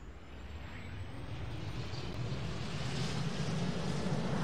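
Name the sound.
Tu-344 aircraft engines starting in Roblox Aeronautica video game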